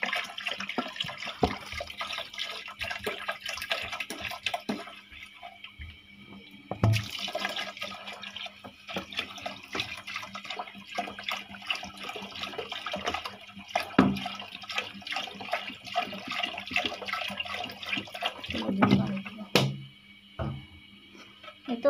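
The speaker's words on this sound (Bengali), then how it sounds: "এই তো পানিটা দেওয়া হয়ে গেছে।" Water is poured into a cooking pot while making chicken biryani, giving intermittent close splashes and trickles with clanks of utensils throughout.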